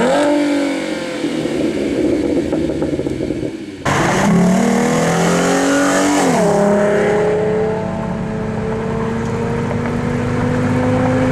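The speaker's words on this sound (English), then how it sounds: "This is the Roush Axleback exhaust with 18-inch resonators, and it sounds quite good." Tuned 2013 V6 Performance Pack Mustang fitted with a Roush axleback exhaust and 18-inch resonators, revving loudly and close up, with a sharp rise in pitch as it accelerates and then a steady drone.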